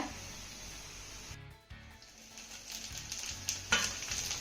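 Chopped green chillies frying with garlic in a hot pan give a steady bright sizzle, broken briefly by a dip and then rising again, with a few faint stirring clinks near the end.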